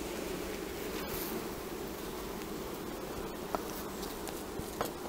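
Honey bees hum continuously around a beehive frame, a dense steady drone close by, with occasional faint rustles and taps from handling the frame.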